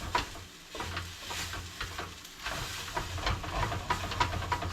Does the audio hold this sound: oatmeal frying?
yes